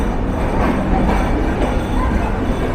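The Madhumati Express rumbles steadily along the rail line in Bangladesh between Bheramara and Paksi, a loud continuous roar of wheels and carriage noise heard from on board.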